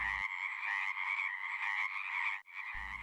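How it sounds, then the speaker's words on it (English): A frog croaking close by in one long, buzzing, pulsing call lasting over two seconds, with a brief break near the end, clear and alone. "As long as he keeps croaking while I move him"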